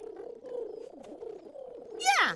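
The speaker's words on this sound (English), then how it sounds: "Let's listen for the cooing of the doves." Doves cooing outdoors, a soft continuous low warbling call, moderately close, ending with a brief higher squeak over it.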